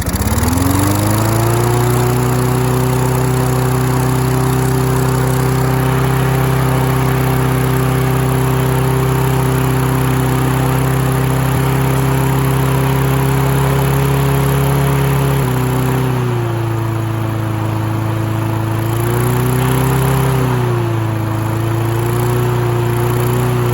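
A recently repaired Husqvarna lawn mower engine runs with its idle still unadjusted after carburetor cleaning: a loud, steady close-up drone that dips and wavers briefly in pitch toward the end, with no talk.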